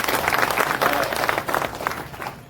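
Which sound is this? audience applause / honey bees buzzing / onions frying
audience applause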